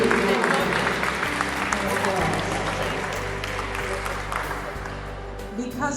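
At a senior center party celebrating Social Security, a crowd claps in a busy wash of hands, mixed with voices and a sustained tonal hum, gradually easing off toward the end.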